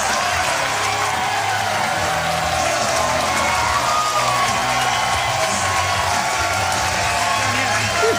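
A bowling crowd cheers and applauds in a dense, continuous roar of clapping and whoops that holds steady throughout.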